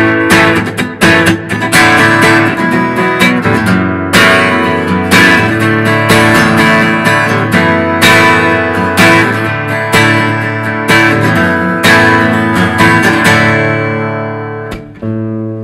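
An acoustic guitar gives a lively, bright strummed rendition of a song's pre-chorus in a live style, with loud rhythmic full-chord strokes and percussive accents close up, finishing on a ringing chord.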